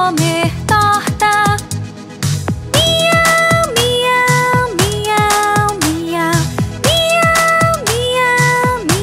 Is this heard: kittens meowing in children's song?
yes